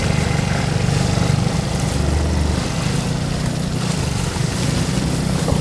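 Motorcycle engine labouring loudly and steadily up a steep slope, a continuous low droning rumble close by with no break, heard alone without talk.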